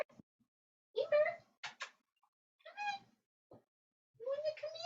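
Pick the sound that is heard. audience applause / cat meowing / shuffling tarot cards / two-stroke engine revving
cat meowing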